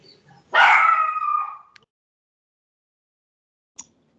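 A dog gives one loud, close, drawn-out bark or yelp lasting about a second, then falls silent, with a faint click afterward.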